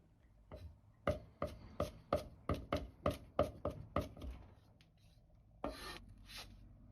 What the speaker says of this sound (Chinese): 大蒜稍微多一点，1小块生姜，先拍破，再剁碎